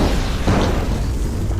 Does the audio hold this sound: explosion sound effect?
yes